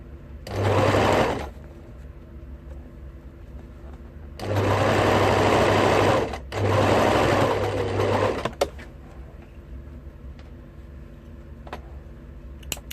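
Sewing machine stitching a zipper accordion, sounding in three close rapid-stitch bursts, a short one then two longer runs separated by brief pauses, with quiet handling between.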